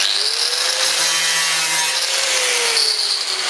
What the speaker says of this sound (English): just get the angle grinder and just take a little bit of the paint off